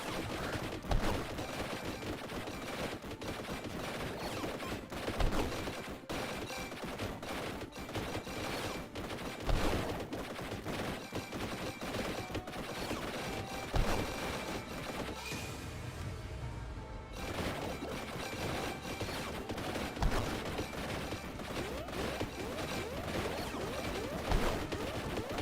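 Lasgun fire in the video game Warhammer Survivors crackles almost nonstop in rapid overlapping bursts, dense and loud, with occasional heavier impacts and a short dip near the end.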